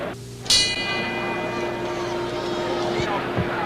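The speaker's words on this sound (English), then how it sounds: "the bell for round 6. The action begins." A boxing ring bell clangs once to open round six of the 1974 Ali–Frazier rematch, its bright ringing tone lingering over a loud, constant arena crowd roar.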